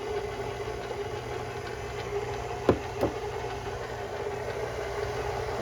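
A KitchenAid stand mixer whips egg whites with a steady, even motor drone, broken by two brief clicks midway, close and unaccompanied by talk.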